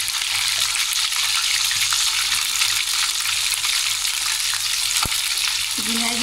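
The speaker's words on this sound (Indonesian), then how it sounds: "ayamnya ini kita goreng" Chicken pieces frying in hot oil in a pan, giving a steady, dense, loud sizzle throughout with a single utensil clink near the end.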